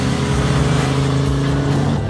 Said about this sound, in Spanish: Puedo oír las ruedas girando.